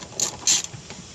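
A socket wrench on an 8mm bolt during a breakdown repair at corn harvest gives two quick, sharp ratcheting clicks in close succession, close up and brief, with no talking.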